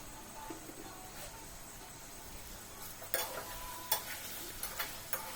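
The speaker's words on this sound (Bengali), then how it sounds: "সাথে সাথে আমি মাংসটা একটু নাড়িয়ে চাড়িয়ে নিচ্ছি" Meat stirred and fried in oil in a wok gives a faint, continuous sizzle, with sharper scraping and utensil clinks picking up in the second half.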